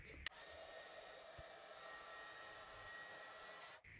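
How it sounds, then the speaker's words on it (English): A craft heat embossing tool on its low setting blows a steady, faint whirring hiss that begins with a click and cuts off near the end. "I've got my heat tool, but I'm going to put it on one, which is the lower heat"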